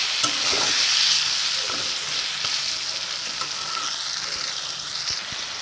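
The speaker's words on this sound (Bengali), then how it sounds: "এবারে আমি টমেটোগুলোকে ভালো করে ভেজে নেব।" Cut tomatoes fry in a pan for a chicken curry, giving a loud, continuous hiss with scattered scraping stirs, strongest at first and easing slightly as it goes on.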